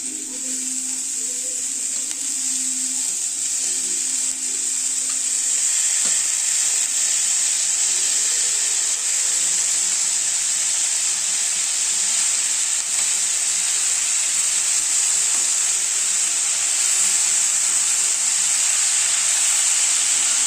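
Small amaranth greens frying in a pan with a little oil, mustard seeds and softened onion, giving a loud, continuous hissing sizzle with faint stirring movement underneath throughout.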